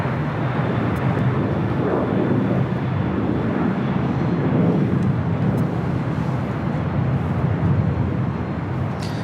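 A jet airliner taking off from runway 25 right at Los Angeles International Airport, a broad, steady engine roar heard at some distance, continuous and loud throughout.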